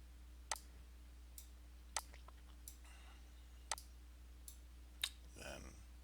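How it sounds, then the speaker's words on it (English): Computer mouse buttons clicked at a desk, four crisp, distinct clicks spaced about a second or more apart with a few fainter ticks between, close and quiet over a low electrical hum. "Now I can right click and left click"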